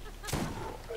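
A single sharp shotgun blast from the Borderlands video game, one short booming report that quickly fades, with faint background noise around it.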